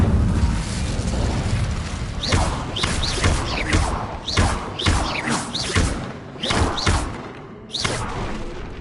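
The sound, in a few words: Incendio fire spell being cast in video game Hogwarts Legacy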